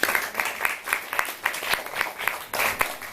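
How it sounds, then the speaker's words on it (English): Audience applause at a forum theatre performance, a brief burst of clapping from a crowd that stays steady and fairly close. "Can I get a round of applause?"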